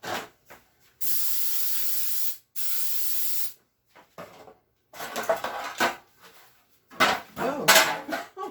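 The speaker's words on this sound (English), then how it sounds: "now I'm going to spray them with some Pam" Several hissing bursts of Pam cooking spray into cheap aluminum pans, two long sprays followed by shorter uneven spurts with light clattering of the thin metal pans between them.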